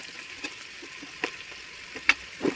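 Coriander powder, sambar powder and chicken masala frying with sautéed onions for a chicken gravy, a soft steady sizzle punctuated by a few light stirring scrapes and taps, close and alone.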